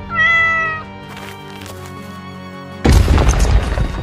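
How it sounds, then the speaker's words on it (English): Cartoon cave collapsing in an animated Banana Cat adventure: a sudden loud crashing rumble of falling rock bursts in near the end, after a tonal meow-like cry and a sustained low tone. "The cave is collapsing."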